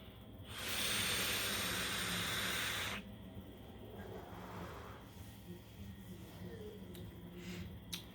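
Whooshy airflow drawn through a Unicorn MDX RDA vape atomizer, a loud steady hiss lasting about two and a half seconds, then fading into quiet background noise.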